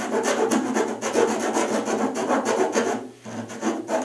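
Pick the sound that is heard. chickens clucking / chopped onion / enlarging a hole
enlarging a hole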